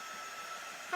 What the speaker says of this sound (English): So I'm going to go ahead and dry this with my heat tool.